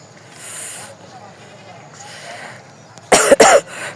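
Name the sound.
coughing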